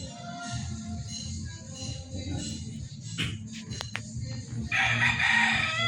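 A Boston Roundhead gamefowl rooster crows close by near the end, after scattered clucks and shuffling outdoor background noise.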